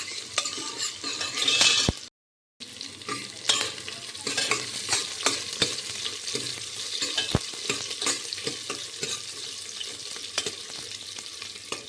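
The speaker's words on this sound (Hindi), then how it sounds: "यहाँ डाल दिया मैंने मेथी, लहसुन और प्याज।" Fenugreek, garlic and onion fry in hot oil in a home kitchen, with a steady, close sizzle and crackle broken by stirring, light clinks of a utensil against the pan, and one brief silent gap.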